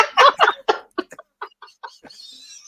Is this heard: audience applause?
no